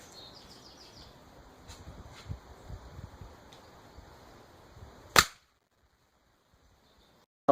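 Daisy 880 pellet rifle pumped ten times and fired at a tactical bump helmet from about 40 feet: one sharp, loud crack stands out after quiet outdoor background with faint bird chirps, then silence.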